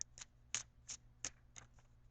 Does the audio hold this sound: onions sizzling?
no